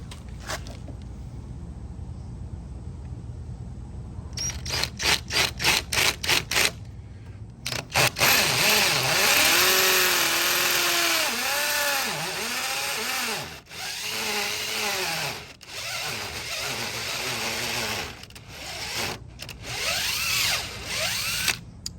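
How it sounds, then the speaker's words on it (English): An old 18-volt DeWalt cordless drill with a half-inch bit is heard loud and close: short trigger pulses first, then long sustained drilling with the motor pitch rising and falling under load, cutting out briefly, until the battery fades. "Now I happen to have a 1/2 inch drill bit on hand and a really old 18-volt DeWalt."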